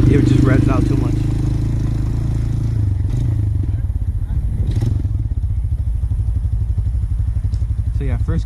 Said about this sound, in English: I'm gonna do one in first gear so you can see what I mean by it just revs out too much.